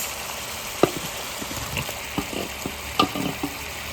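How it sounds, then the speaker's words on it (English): Steady hiss of prawns sizzling as they are added to boiling biryani gravy in a hot pan, with a few sharp pops and clinks scattered through. "It's time to add in the prawns."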